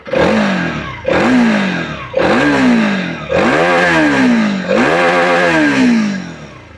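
A TVS Apache RTX300 motorcycle revs five times in quick succession, each loud exhaust blip rising sharply then falling away, close by and with no one talking.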